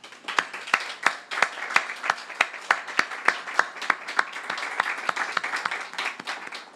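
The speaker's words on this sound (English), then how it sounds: "give the staff a big round of applause" A crowd at a park grand re-opening claps for the staff. Sparse, distinct hand claps ring out at a fairly regular rhythm, some sharp and close, over a thin background of further clapping.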